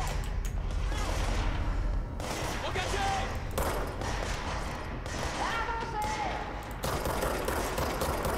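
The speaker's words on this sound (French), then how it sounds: "Ça tire, ça tire." Gunfire in the supernatural shooter Control, set inside a large haunted building: a steady run of shots and clattering impacts at moderate level, mixed with game effects and talk throughout.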